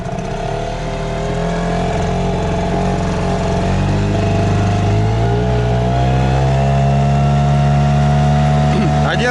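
A Chinese-made outboard boat motor runs during break-in, a loud steady engine drone whose pitch climbs gradually as it revs up, close and continuous throughout.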